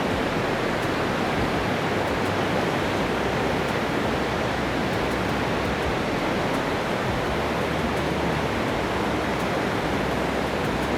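Powerful roar of the Niagara River whirlpool rapids, fast white water at close range forming a dense, unbroken wall of rushing noise that stays loud and constant throughout.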